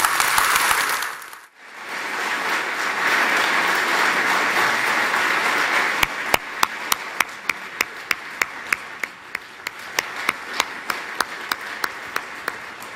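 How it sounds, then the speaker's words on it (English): Crowd applause follows a Jeremy Corbyn political speech in Coventry: a dense roar of clapping, a brief dip, then continued applause that gives way to louder, rhythmic unison claps near the end. "So applause for Jeremy Corbyn's speech in Coventry."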